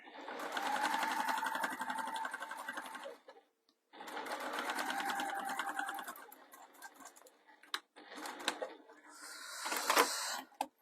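A sewing machine runs in short bursts top stitching a faux leather bag, rapid rattling stitches with brief pauses between runs, close up, with some talk near the end.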